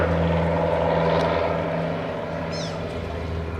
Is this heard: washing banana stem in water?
no